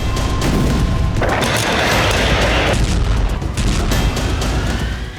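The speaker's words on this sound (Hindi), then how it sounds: "जबरदस्त धमाके का यह वीडियो बाखमुत के क्लिश्चिवका का है" A massive explosion from an air strike in Klishchiivka near Bakhmut, Ukraine, roars with a deep rumbling boom and crackling debris, loud and sustained for several seconds.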